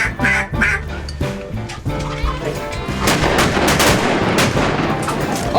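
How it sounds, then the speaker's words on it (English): Loud duck calls and repeated shotgun blasts during a duck hunt for greenheads in Stuttgart timber, with quacking early on and a dense, continuous barrage of shots and splashing noise building through the second half. "Shoot that duck."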